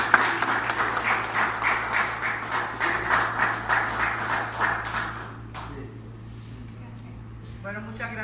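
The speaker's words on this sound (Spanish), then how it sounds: "¡Un aplauso para él!" A crowd claps for licenciado Francisco Rivas Quijano as he receives a diploma at a tribute ceremony. The rhythmic applause is steady and moderately loud, then stops abruptly, followed by quieter room noise and a brief voice.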